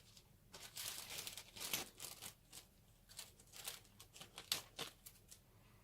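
A resealable plastic bag holding Eduard clear model-kit parts crinkles close and quietly in irregular bursts of rustling and crackling, with short pauses between handlings.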